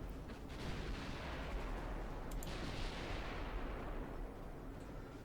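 Naval guns firing in Ultimate Admiral Dreadnoughts, 10-inch and 5-inch batteries in a battleship engagement, heard as a faint, continuous distant rumble of artillery with a brief sharp crack partway through.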